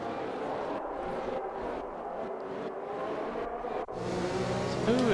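Formula 1 cars on the formation lap at the USA round of an F1 racing game, a steady engine drone and whir that swells slightly toward the end, heard alone without talk.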